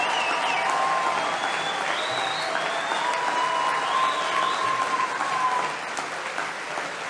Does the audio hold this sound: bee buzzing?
no